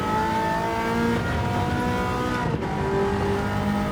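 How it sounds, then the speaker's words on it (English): Race car engine held at full throttle near the top of its RPM range in an endurance race, a loud, steady, close high-revving drone with dense harmonics lasting throughout, with no talk. "Love how you can just throttle, top of the RPM, and the vehicle drives."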